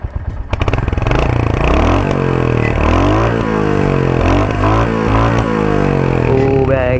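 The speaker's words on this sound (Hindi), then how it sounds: "तो कोल्ड स्टार्ट किया है मैंने इस बाइक को, अभी आप लोग चेक कर लो इसकी साउंड" A Royal Enfield Hunter 350 motorcycle engine cold-starts and settles into a steady, throbbing idle close by, with slight revs and pitch shifts.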